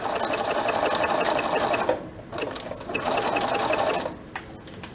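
A sewing machine stitches a triple zigzag, its rapid, close mechanical rattle running in two bursts separated by short pauses.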